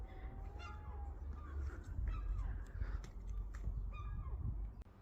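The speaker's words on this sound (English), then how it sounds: "You can hear the birds in the background." Several bird calls ring out over steady outdoor background noise in a property's garden, with a few harsh, cawing notes at moderate distance.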